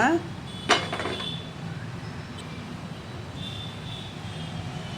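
A cooking pot is set onto a kitchen stove with one sharp metallic clank near the start, followed by a quiet, steady background hum.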